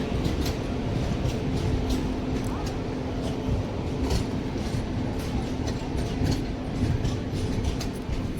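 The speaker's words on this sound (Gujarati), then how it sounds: "બાંદ્રા ટ્રેન આવી છે" A train rolls at Bhavnagar Terminus station as the Bandra train arrives, a steady low rumble with faint rhythmic clatter of wheels, moderately distant, with people talking faintly in the background.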